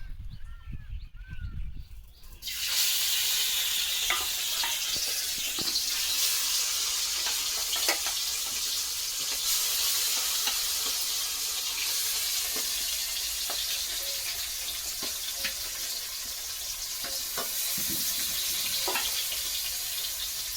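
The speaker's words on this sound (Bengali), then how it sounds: "তো এখন মাছগুলো ভাজতে আসলাম" Fish sizzles steadily in hot oil in a pan after a quiet start, a continuous close hiss with occasional crackles and faint utensil clicks.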